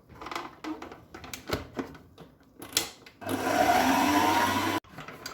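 Electric hand mixer beating orange cookie dough with orange zest and juice, a steady loud whirring drone for over a second after scattered scraping and clatter of the bowl.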